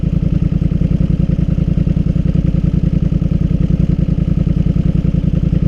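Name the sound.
Highlifter 850 engine idling with Big Gun exhaust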